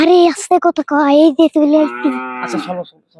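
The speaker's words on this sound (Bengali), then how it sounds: "গরু আবার ডাকতেছে" A cow lets out a drawn-out moo near the end, following several quick bursts of nearby human speech.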